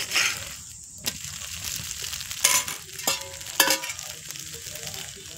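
A green dosa cooks on a hot pan with a steady, close sizzle and frying hiss, broken by a few sharp scraping knocks as it is turned or lifted. No one speaks.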